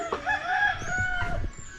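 Sick chickens with colds give hoarse, nasal clucks and strained calls up close, a short burst of drawn-out croaking vocalizations.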